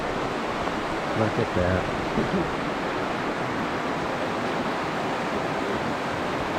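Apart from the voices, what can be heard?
river water flowing down near Byron Glacier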